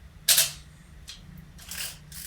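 Vessa L film camera fires its shutter, giving a tinny, springy mechanical click followed by a few fainter clicks and winding sounds, close and quiet in an otherwise still room.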